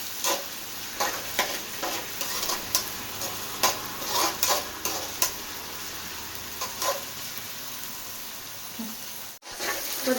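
Crushed ingredients frying in oil in a pan for street-style egg fried rice, a continuous soft sizzle broken by repeated sharp clicks and taps of stirring at irregular intervals, with a short silent gap near the end.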